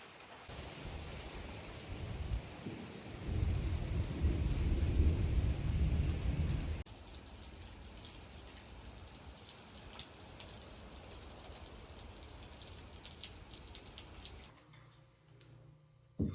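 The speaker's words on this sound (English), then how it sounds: "watching the rain fall down" Steady rain falls near a porch with deep rumbling thunder swelling in the first half, then the downpour continues as an even hiss before dropping away abruptly, with no talk.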